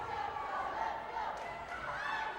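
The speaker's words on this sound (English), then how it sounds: "Crowd will get loud." A volleyball crowd at a college match between the Jefferson College Lady Vikings and Mineral Area Cardinals rises in a brief burst of cheering and shouting, a dense, steady roar of voices.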